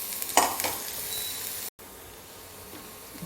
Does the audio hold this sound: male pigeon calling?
no